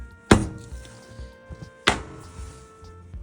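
Two sharp knife chops through half an onion on a cutting board, spaced about a second and a half apart, each a crisp close thunk with small knocks and rustles between them and no talk.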